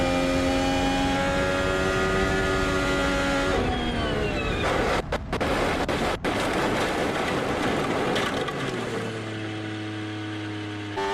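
In the BeamNG driving game, a racing car's engine screams under full throttle with steady high-pitched harmonics, then cuts out briefly amid a few sharp clicks and rises again before settling into a lower drone.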